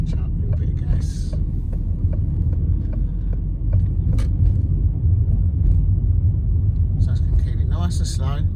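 A car on a driving test route slows and drops into second gear, its engine a low, steady rumble close by while someone talks continuously over it, with a few faint clicks and a brief hiss near the end.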